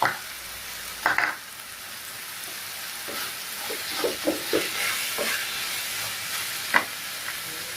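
Masala with onion and tomato sizzles and fries in a pan for kari dosai while a spoon scrapes and stirs in short, uneven bursts, close and fairly quiet.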